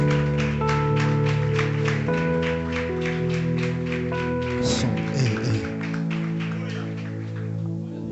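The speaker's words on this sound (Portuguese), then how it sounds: "E as palmas louvam ao Senhor." A church congregation claps in steady rhythm alongside sustained keyboard chords, the handclaps close and even over the music throughout.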